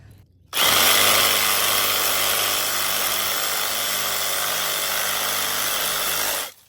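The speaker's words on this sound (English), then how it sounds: "So I'm grabbing my trusty hacksaw and getting to work." A powered saw cuts through tangled garden brush with a loud, close, continuous motor drone that starts suddenly, holds steady for several seconds, then stops.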